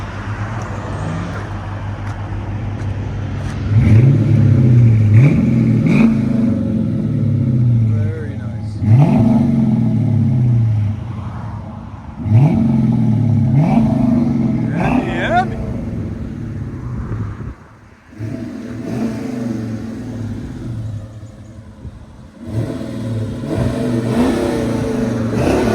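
A 2015 Dodge Challenger R/T with a 5.7L HEMI V8 and Flowmaster 40 Series exhaust revs up loudly several times, each throttle blip rising and falling, with people talking and cheering over it.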